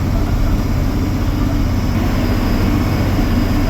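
A John Deere 4440 tractor engine drones steadily and loudly, continuous with a low rumbling hum and no pauses, like heavy machinery working up close.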